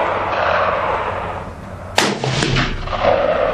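A single sharp SKS rifle shot rings out outdoors midway through, loud and abrupt with a brief echoing tail over steady wind-like background noise.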